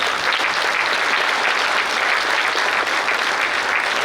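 Audience applause for poets at a Hindi poetry gathering, a steady, dense wash of clapping from a sizeable crowd filling the whole moment without a break, no voices standing out.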